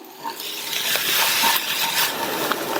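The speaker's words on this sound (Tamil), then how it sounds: "நீங்க பக்கத்திலேயே இருந்து இந்த மாதிரி வதக்கிட்டீங்கன்னா எல்லா வெங்காயமுமே நல்லா ஒண்ணு போல வதங்கும்" Onions sautéing and being stirred in a pan for a quick Tamil kulambu curry, with a steady close sizzle broken by scraping stir strokes and no talk.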